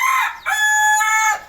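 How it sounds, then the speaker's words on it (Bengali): Native desi chickens kept on a home balcony give loud, close crowing and clucking, two sustained calls in quick succession with no talk. "এই হলো আমার বারান্দায় দেশি মুরগি পালন।"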